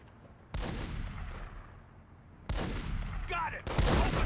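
Gunfire in The Godfather video game during a turf war, a few loud, sudden bursts of shots with echoing tails, separated by quieter stretches, with faint voices in the background.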